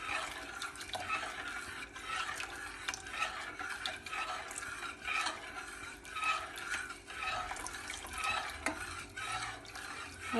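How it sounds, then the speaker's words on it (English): Chicken corn soup stirred continuously in a pot, a steady scraping and swishing with a faint bubbling underneath, close and moderately loud throughout with no talking. "I have to keep stirring, otherwise it will become lumpy"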